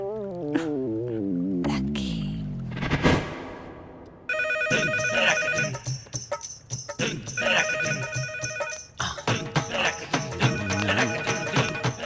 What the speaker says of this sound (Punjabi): ਫੋਨ ਚੁੱਕੋ